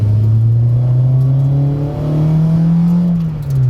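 A tuned Honda Civic Type R EP3 engine with a remap, cams and individual throttle bodies revs loudly and steadily to 5,000 RPM, its tone climbing and holding high before easing off near the end, close to the microphone.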